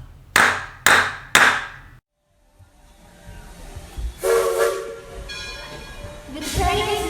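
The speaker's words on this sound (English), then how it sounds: "The train is now leaving the Interpretation Station." Three sharp bursts of steam open the train departure sound effect, followed by a short pause, then rising chugging, rumbling hiss and a steam whistle as the train pulls away.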